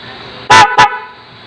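Two loud blasts from an aftermarket loud horn replacing a car's stock horn, a longer honk followed quickly by a shorter one, over a faint idling hum.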